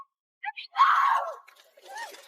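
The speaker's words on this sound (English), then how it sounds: "As Elvina's screams faded down the hall" A woman in an audio drama screams and wails as she is dragged away down a hall, a loud cry at first that trails off, followed by a fainter second wail.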